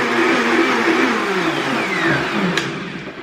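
A kitchen blender pulses with a cup of water and a drop of soap to clean it, a loud, steady whirring motor roar lasting a few seconds before spinning down slightly.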